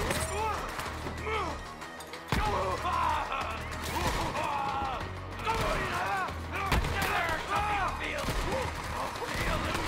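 Shotgun fire in the video game Borderlands 3, loud blasts and crashes within busy combat noise, with someone talking over much of the action.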